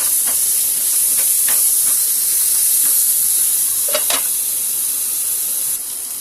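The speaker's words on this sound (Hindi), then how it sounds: "इतने हमारे स्वीट कॉर्न सौटे हो रहा है" Sweet corn and green onion sautéing in melted butter in a pan, a loud constant sizzling hiss with scattered light scrapes and clicks of stirring, no talking.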